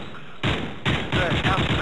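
Gunfire in a video game, a quick run of three close, loud shots roughly every half second over game noise and chatter.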